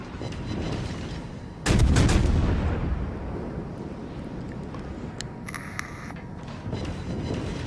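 Naval guns fire a loud heavy salvo from a US cruiser in World of Warships, one booming blast followed by a long rumbling decay, with a sharper metallic burst a few seconds later over steady background noise.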